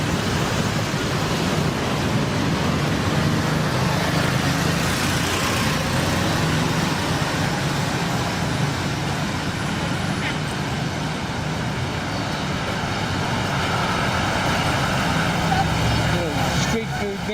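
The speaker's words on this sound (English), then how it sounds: "The road's a bit busy." Busy road traffic rushes past in a continuous broadband roar, close and loud throughout, with vehicles blending into a steady wash of noise and no voices heard.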